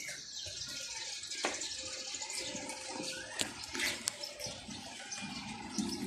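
Rain and running water on a rainy, stormy morning outdoors among garden plants, a steady broadband wash of falling and flowing water with a few sharper splashes and drips, no voices.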